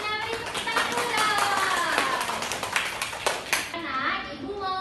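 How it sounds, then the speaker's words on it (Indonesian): Primary school children in a classroom clap in rhythmic patterned bursts, sharp hand claps mixed with their lively chatter and voices throughout. "Beri tepuk tangan dulu."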